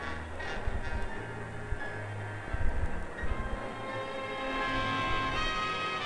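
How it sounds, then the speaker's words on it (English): Underwater volcanic activity in shallow waters off Hawaii, where lava pillows form, makes a continuous low rumbling roar with scattered knocks and rattling pops, fairly faint and steady, with no voices. "sounds you are hearing are those of underwater volcanic activity"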